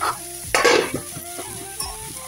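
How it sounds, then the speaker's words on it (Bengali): Something fries in a pan while it is stirred, making a close sizzle with a sharp scrape and a burst of hiss near the start, then softer clinks and stirring, with no talk. "আস্তে করে দিয়ে ভাজা করছি"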